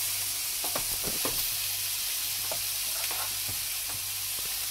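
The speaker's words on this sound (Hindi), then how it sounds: "इसे हम एक स्पून की सहायता से पैन में डाल रहे हैं" Turnip galawati kababs fry in a large pan over a gas flame, giving a steady loud sizzle with soft scraping and stirring taps running through it.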